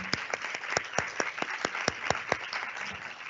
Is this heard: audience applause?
yes